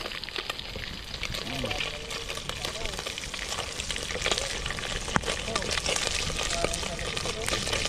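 Tilapia fish frying in a pot over an outdoor fire, giving a steady, loud crackling sizzle that carries on throughout with occasional stirring clinks, while people talk nearby over it.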